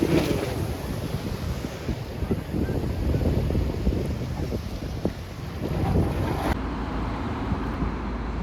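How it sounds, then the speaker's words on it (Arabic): Large ocean waves rolling in at Oualidia on the Moroccan coast, with steady wind buffeting the microphone; a continuous loud roar of surf and gusts, with no speech. "موج كبير."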